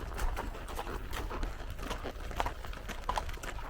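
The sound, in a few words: horse hooves clip-clopping on horseback ride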